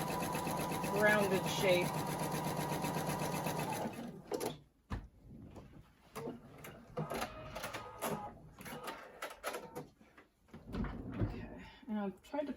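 A sewing machine stitches pumpkin quilt block pieces in one loud, steady run of about four seconds, then stops; a person talks over the later stretch.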